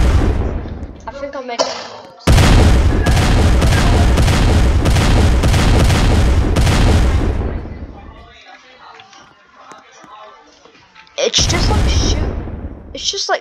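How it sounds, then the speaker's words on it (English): Cannon-like projectile shotgun firing in a Roblox video game, a loud booming volley of rapid shots over several seconds, then a second burst after a pause, with a voice speaking briefly between. "It's just like shooting a cannon."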